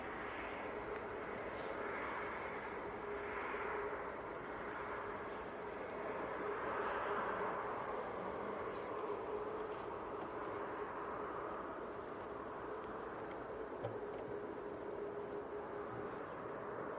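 An EasyJet Airbus A320neo airliner at Manchester Airport sounds as a steady, fairly distant jet roar that holds on without pause and swells gently, with no talking.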